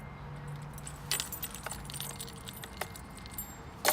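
Car keys jangle close by in a few light metallic rattles and clinks, scattered across a low steady background hum, with no speech.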